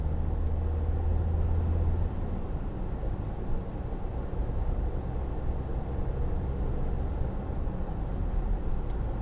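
A 2014 Volkswagen Tiguan 2.0 TDI diesel on the move gives a steady low cabin rumble with road and engine drone that holds even throughout.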